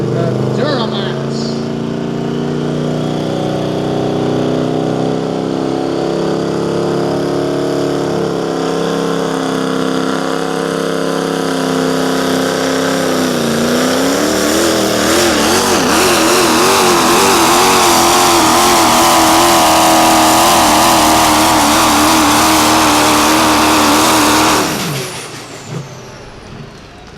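A Duramax diesel 4x4 pickup in a smooth bore truck pull runs at full throttle for the whole pass, a loud sustained engine roar rising and wavering in pitch before cutting off near the end, with an announcer speaking over it.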